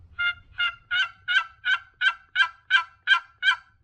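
Ten evenly spaced raspy yelps from a Swamp Boys Custom Calls wooden box call imitating a turkey, played close and loud in a steady rhythm with no talking.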